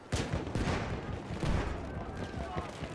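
Gunfire and sniper shots in the World War I shooter Battlefield 1, a quick run of overlapping cracks and bursts across about three seconds, moderately loud with a voice talking over them.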